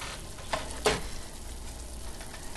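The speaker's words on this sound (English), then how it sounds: "So you can see it's boiling now." Vanilla syrup boiling in a pot on a stove, a steady low bubbling hiss with two brief louder sizzling bursts, close by and alone.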